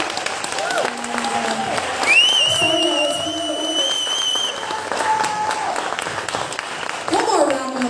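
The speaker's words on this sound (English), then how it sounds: "One more round of applause for Sweta" A comedy-night audience at Score's applauds, with dense clapping and crowd noise that rises and falls for several seconds, alongside some thin whistling tones.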